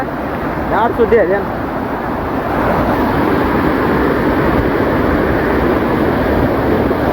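Steady rushing water at Godachinamalki waterfalls roars continuously and loudly, with brief voices speaking over it near the start.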